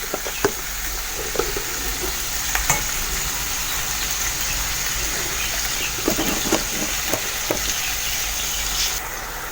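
Beef liver sizzles in ghee with garlic in a pan, a steady close frying hiss broken by scattered clinks and scrapes of stirring, with no one talking.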